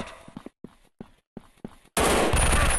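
In the mobile shooter game Gun Strike 3D, a string of short single gunshots with gaps between them ends in a loud, sustained burst of automatic fire, with no one speaking.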